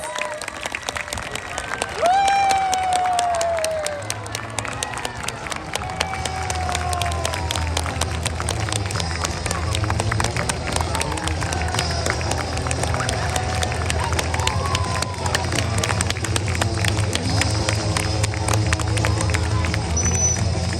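An aquarium audience at a sea lion show applauds and cheers, with steady crowd clapping and hubbub running throughout and voices rising over it.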